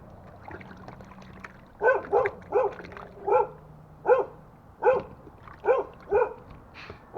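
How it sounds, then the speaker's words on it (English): A puppy barks in a series of about ten short, sharp yaps at an uneven rhythm, fairly close, over a low background hum. "What a puppy."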